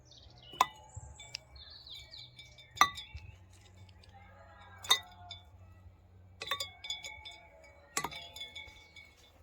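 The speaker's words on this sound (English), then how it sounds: "I'll now throw in some ice cubes." Ice cubes dropped one at a time into a glass vessel during gold refining, giving about five sharp, bright clinks spaced a second or two apart over a faint background.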